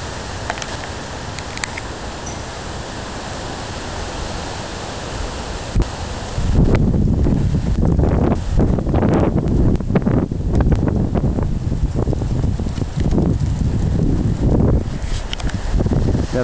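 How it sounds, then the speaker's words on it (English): Hard wind during a storm in Hamilton, Ohio, roars against the microphone: a steadier rush at first, then from about six seconds a much louder, buffeting blast of gusts that keeps pounding to the end, with no voices. "Blowing pretty hard."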